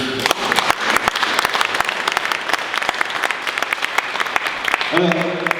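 Warm applause from an audience at a photo club's fiftieth anniversary celebration in Armentières, dense rapid clapping sustained throughout, close and loud, with a voice briefly rising near the end.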